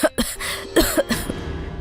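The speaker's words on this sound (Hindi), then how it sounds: "जॉली की माँ खांसते खांसते बेहोश हो जाती हैं।" A woman coughs in a short burst of three or four harsh, close coughs with brief gaps, ending in a fading breathy tail.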